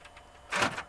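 A car's power door locks cycle once, a single short mechanical clunk of the actuators, close and moderately loud against a quiet cabin background.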